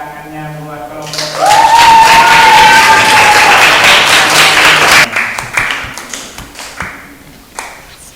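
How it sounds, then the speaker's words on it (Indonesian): A classroom group claps for a group of students as a teaching session goes on, with a burst of clapping and tapping in the middle while several people talk over it. "Mana tepuk tangannya buat kelompok"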